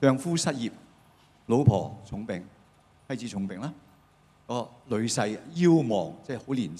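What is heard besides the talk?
No everyday noise stands out behind the speech.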